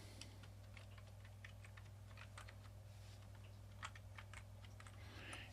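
Quiet, irregular key clicks from a computer keyboard as a login name is typed, soft and close over a steady low electrical hum.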